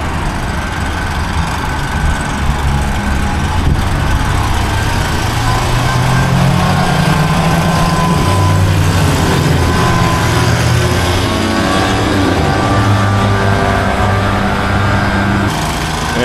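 A leaf blower clears debris off a freshly mulched area, its loud, steady engine whine running close by throughout.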